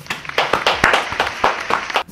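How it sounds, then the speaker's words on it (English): A small group in a barbershop gives a round of applause: sharp, uneven claps fall close together at close range for about two seconds, then stop abruptly. "Give him a round of applause."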